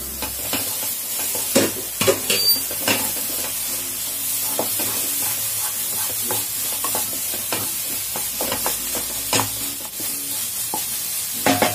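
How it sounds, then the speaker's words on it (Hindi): Eggs for egg bhurji frying in a pan on a gas stove give a steady sizzle, broken by repeated close scrapes and clicks of stirring. "हम अंडा डालने के बाद इसको हम ज़्यादा नहीं भूनेंगे"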